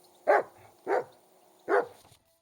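A dog in the video game Kingdom Come: Deliverance 2 gives three loud, close barks in an uneven rhythm, then falls silent, with no talk over it.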